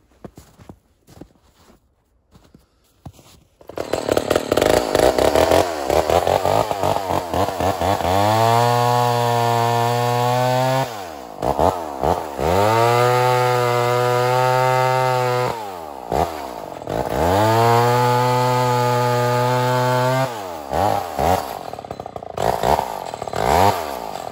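A vintage Lombard 68cc chainsaw fires up and runs, loud and close, alternating between revving bursts with rising pitch and rough idle dips in several cycles, with no talk.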